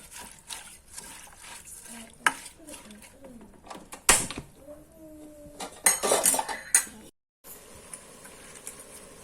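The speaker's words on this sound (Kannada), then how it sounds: "ಈಗ ಒಂದು ಸ್ವಲ್ಪ ನೀರನ್ನು ಹಾಕ್ಕೊಂಡು ಒಂದು ಬಾಯಿ ಮುಚ್ಚಳವನ್ನು ಹಾಕಿ ನೀಟಾಗಿ ಬೇಯಿಸ್ಕೊಡುವ ಇದನ್ನು" In a Mangalorean crab and spinach curry pot, a spoon clinks and scrapes against metal, water goes in with a brief gush, and a lid clatters on, with someone talking between the sounds.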